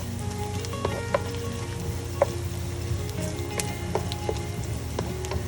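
Onions fry in a pan with a steady, even sizzle, punctuated by occasional soft taps and scrapes from stirring, close and continuous with no talking.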